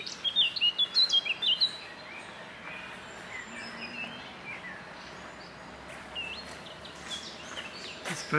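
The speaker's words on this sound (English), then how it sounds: "This bird was singing a second ago." Outdoors near the Danube on a walk around Salzburg, a small bird sings a quick series of bright chirps at the start, followed by fainter, scattered calls over steady ambient background.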